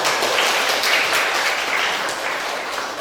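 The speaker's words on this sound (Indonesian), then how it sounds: "Magic, tepuk tangan" A classroom of students bursting into steady applause, a dense wash of many hands clapping at once, close and even for the whole stretch.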